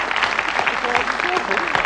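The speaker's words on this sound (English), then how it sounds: "Round of applause there for a non-dart player" Studio audience applauding on a 1984 Bullseye Christmas Special darts game show, a steady dense wash of clapping filling the whole stretch with some talk faintly underneath.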